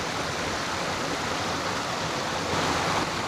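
The Conasauga River flows at its confluence with Little Rough Creek beside a small cascade in a wilderness setting, making a loud, constant broadband rush of moving water with no pauses.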